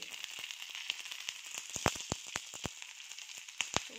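Onions sizzle lightly in a pan while gobi manchurian is being made, a soft steady crackle scattered with sharper pops and spits, fairly faint and with no talking.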